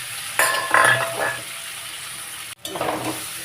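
Papaya and potato sautéing with spices in a hot pan, a steady sizzle broken by scraping stir strokes near the start and again after a brief pause, close and fairly loud.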